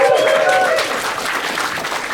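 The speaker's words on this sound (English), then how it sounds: "Can you please give him a round of applause?" An audience at a live podcast recording claps in a dense burst of applause, fairly loud and close, with a voice briefly heard at the start.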